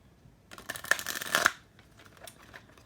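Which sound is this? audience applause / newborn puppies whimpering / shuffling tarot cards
shuffling tarot cards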